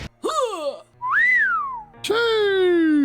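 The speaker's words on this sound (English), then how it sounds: "Most of the voice lines, they consist of whistling and weird one-line quotes" Whistling voice lines from the horror co-op shooter Sker Ritual: three loud, close whistled phrases, each a sliding, warbling tone, with brief pauses between them and a low background hum.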